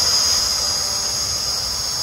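A Hubsan H502s quadcopter drone, fitted with helicopter landing skids, hovering close by with a loud, steady high-pitched motor whine that holds constant throughout.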